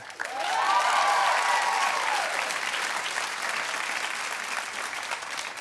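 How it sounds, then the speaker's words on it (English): A studio audience at a daytime talk show claps loudly and steadily for a few seconds, with some cheering over the applause that then tapers to a softer sustained clapping. "Clap if you do."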